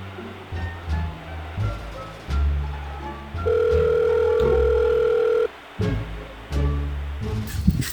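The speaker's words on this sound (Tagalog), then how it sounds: "si Dodong tawagan ko na lang." A single steady telephone ringback tone sounds for about two seconds while a call is placed, over continuous low background noise.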